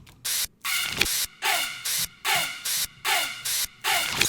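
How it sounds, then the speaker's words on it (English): Bursts of hissing white noise pulse in a steady rhythm, with a thin, high screeching texture sitting faintly in the background between them. "in the middle of those is just like screech sound effect that kind of just sits in the background"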